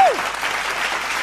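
A church congregation claps hands during a Sunday service message, a dense burst of steady applause filling the room after a brief vocal cue at the start.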